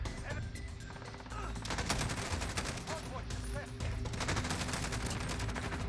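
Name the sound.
gunfire in Modern Warfare video game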